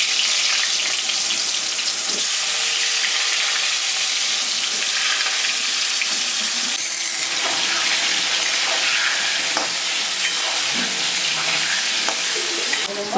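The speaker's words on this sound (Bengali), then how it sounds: "আলুগুলো ভেজে নিচ্ছি।" Potatoes frying in hot oil in a wok, a loud, continuous sizzle with occasional stirring scrapes, close up and without speech.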